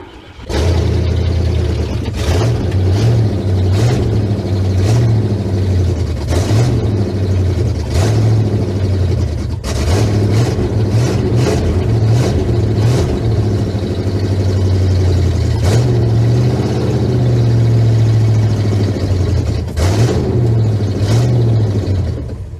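An old truck engine runs after carburetor work, loud and close, idling unevenly between repeated sharp blips of the throttle that rise and fall throughout.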